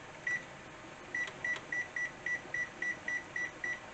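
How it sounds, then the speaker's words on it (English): An electronic kitchen timer beeps about a dozen times while being set for 10 minutes during pressure canning, short evenly spaced tones, fairly close and moderately loud, with no talking. "So I will set the timer"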